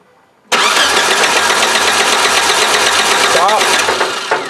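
A Suzuki Sidekick with a swapped 16-valve engine cranks loudly and continuously after a brief quiet start, with a rough, churning mechanical rhythm that does not catch.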